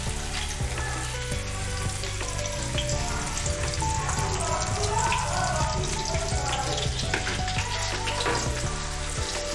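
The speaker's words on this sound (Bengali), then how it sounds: "ঘিটা দিয়ে একটু গরম হয়ে গেলে এর মধ্যে অ্যাড করব হচ্ছে আমি পেঁয়াজ" Onions fry in hot ghee for a Kashmiri chicken dish, a loud continuous crackling sizzle with some clinks and scrapes of stirring running the whole time.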